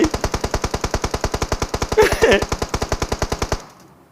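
Rapid machine-gun fire in PUBG Mobile in a steady, unbroken burst, loud and close, with a brief whoosh midway before it stops abruptly.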